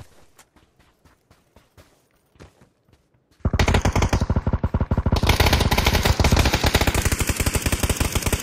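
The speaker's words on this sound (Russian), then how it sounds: "Не надо было стрелять, Саня." PUBG video game gunfire: a few sparse footsteps and quiet clicks, then sudden loud, rapid automatic bursts that continue densely to the end, with no speech over them.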